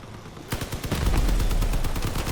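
Vehicle-mounted guns fire in the Crossout combat game, a sudden loud burst of rapid, dense automatic gunfire that starts after a brief lull and continues without a break.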